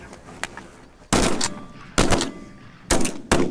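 Shotguns fire at a flock of ducks during a field duck hunt, with four loud, close blasts in quick succession separated by short quiet gaps.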